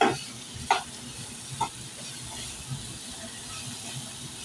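Dried shrimp (jawla) fry in a pan with a soft, steady sizzle and hiss. A few louder scrape-like stirring knocks sound near the start.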